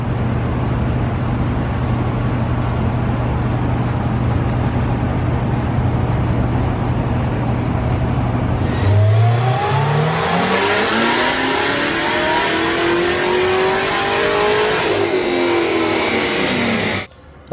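A Corvette C7 Z06 engine fitted with a true 3-inch titanium X-pipe exhaust idles on a dyno, then revs hard through a long rising full-throttle pull and cuts off abruptly, loud and close.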